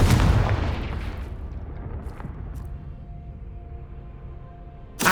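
A single loud, deep blast from a Confringo fire spell in Hogwarts Legacy, bursting at once and then rumbling away into a long fading tail, followed by a sharp sound at the very end.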